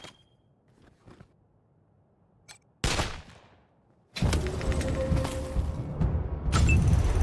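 Gunfire opens a turn-based fight in Wasteland 3: a few quiet clicks and taps, then a sharp loud shot with a decaying tail, followed by a dense sustained burst of combat noise and impacts.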